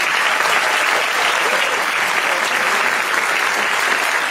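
Warm, sustained applause fills a live music venue in Sucre as a singer and her guitarist are welcomed, a continuous even patter of many hands with no pauses.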